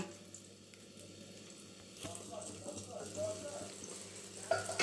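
A soybean omelette cooks in a covered pan, giving a steady, soft sizzle with occasional louder crackles and pops, heard close up and fairly quiet throughout.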